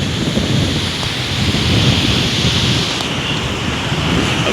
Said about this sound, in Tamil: அந்த அலை அது வரைக்கும் போயிருக்கு. இப்போ இங்கே வருது.